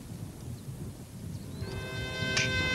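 Cartoon thunderstorm with rain: a steady, low rumbling wash of rain and thunder fills the scene, and sustained musical tones join in partway through.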